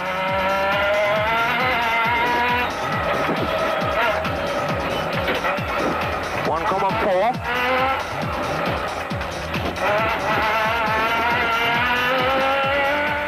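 Off-road rally racing with a Nissan Navara truck: loud, continuous engine roar with shifting revs and tire squeal, close and busy throughout, with a voice talking over the din.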